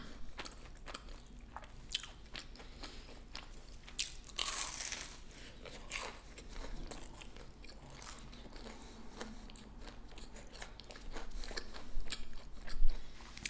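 Someone eating home deep-fried frozen rice cakes up close, with repeated loud crunchy bites and steady chewing over about thirteen seconds and no talking.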